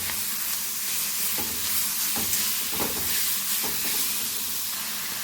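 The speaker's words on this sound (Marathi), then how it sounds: "आता यामध्ये घालत आहे मी आपण किसून घेतलेला मुळा व्यवस्थित मिक्स करून घ्यायचा आहे" Grated radish and peas stirred in a hot pan: a steady sizzle and hiss with soft scraping strokes at irregular intervals, close and moderately loud, with no talking.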